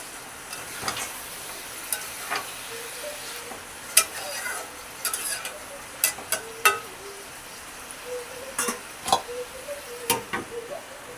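Goat mutton frying in a pot while being stirred, with a steady sizzle broken by a run of sharp scrapes and clacks of a spoon against the pot, close and fairly loud, no voices.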